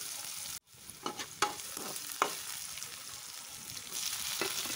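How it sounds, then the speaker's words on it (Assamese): Onion, garlic and chopped tomato fry over medium heat in a pan, a soft, steady sizzle broken by a few brief scrapes and knocks of a stirring utensil, close and fairly quiet with no voices. "এতিয়া এইখিনি মিডিয়াম জুইতেই মই অলপ দেৰি ফ্ৰাই কৰি ল'ম"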